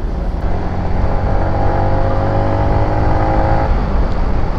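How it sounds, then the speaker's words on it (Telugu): Dense road traffic in Mysuru heard from a motorcycle on the road, a continuous loud rumble of car and bike engines with steady revving, close and unbroken throughout. "మా ఎంత ట్రాఫిక్ ఉంది"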